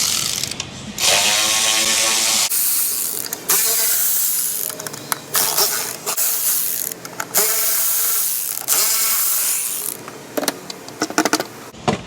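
Ratchet wrench with a locking socket extension working on a junkyard Chrysler Dodge 3.6 engine, giving loud, close bursts of rapid clicking in several runs separated by short pauses, with no talk.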